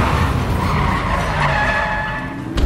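A car in Resident Evil 7 roars and skids hard, tires squealing loudly and continuously, close and dominant with no talk over it.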